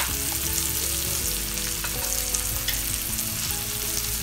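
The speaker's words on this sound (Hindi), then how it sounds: "मिर्ची भी थोड़ा सा फ्राई हो जाए।" Green chillies fry in a pan for a soupy Turkish-style kebab, giving a steady, close, even sizzle with sustained musical tones running underneath throughout.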